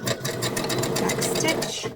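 A sewing machine runs a zigzag stitch with a back stitch on a fabric face mask, a fast rattling needle chatter continuing steadily under a speaking voice.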